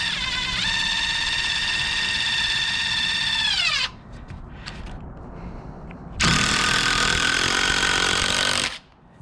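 A power drill drives screws into the wood deck around a Velux skylight and flashing kit, sounding as two loud whining bursts with a high tone that drops as it slows, separated by a short quieter gap.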